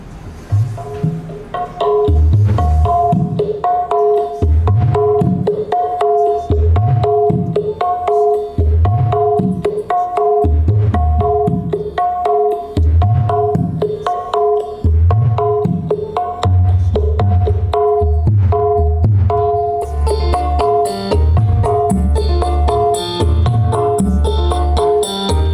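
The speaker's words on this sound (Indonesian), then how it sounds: "Yang pertama saya akan cek sound menggunakan suara gendang dangdut ya." Dangdut kendang drum rhythm playing through Fidelity 15PRO and 12PRO passive speakers, steady loud thumping beats with repeating tonal hits, alone and sustained.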